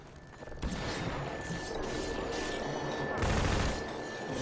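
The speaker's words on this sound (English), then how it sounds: "I'm going to stop and shoot him in the face" Dense, loud gunfire from Half-Life 2 fills the space in rapid overlapping bursts, with a heavier crashing volley near the end and no voices over it.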